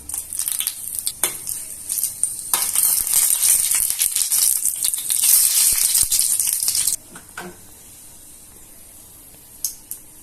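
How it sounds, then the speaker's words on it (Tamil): Mustard seeds and curry leaves frying in hot oil for a rasam tempering: a steady, close, bright sizzle with crackling pops and a few utensil clinks, dying down to a quiet hiss partway through. "கடுகு பொரிஞ்சதும் கருவேப்பிலை சேர்த்துக்கலாம்"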